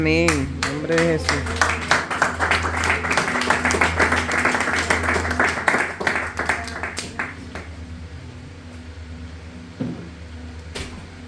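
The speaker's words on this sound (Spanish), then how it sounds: "Un aplauso a Dios." Church congregation claps together in a dense burst of applause for several seconds, fading out around the middle while a low hum and scattered voices continue, with a last few claps trailing near the end.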